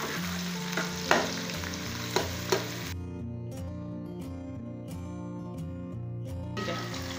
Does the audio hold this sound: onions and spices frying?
yes